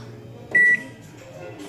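A microwave oven reheats cooked rice with a soft, steady hum, broken by a short, loud electronic beep near the start and another at the very end.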